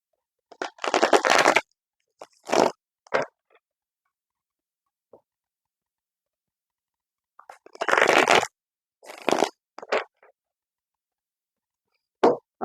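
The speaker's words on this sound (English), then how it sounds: "grab your deck, shuffle like I am" Tarot cards shuffled in several quick riffling bursts, close and crisp, separated by pauses of near silence.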